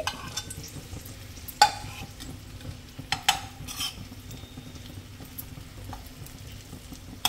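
Stuffed okra fries in a pan as pieces are turned, giving a soft continuous sizzle broken by a few sharp utensil clinks and scrapes against the pan.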